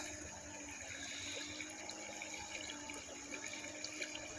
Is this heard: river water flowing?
yes